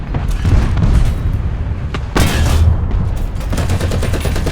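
A Sherman I Composito tank fires a high-explosive round in War Thunder: one heavy, loud boom midway through, over a constant rumble of engine and battlefield noise with scattered distant shots.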